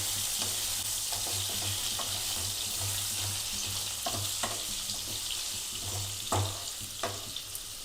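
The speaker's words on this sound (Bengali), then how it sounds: "এবারে আলুগুলো একটু ভালো করে ভেজে নেব" Potato pieces fry in hot oil in a pan, a steady close sizzle broken by occasional spatula stirs and scrapes, with a low hum beneath and nobody talking.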